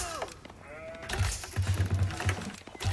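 Several short sheep bleats in an Age of Empires IV match, quick overlapping calls following a brief voice, with game sounds around them.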